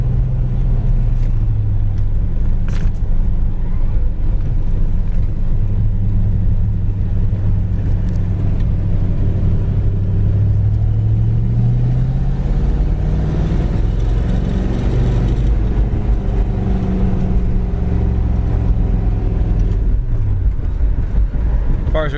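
A 1966 Ford Fairlane with a four-speed manual cruises through town in fourth gear at about 25 mph, its engine a steady low rumble and whir throughout, with some faint speech audible over it.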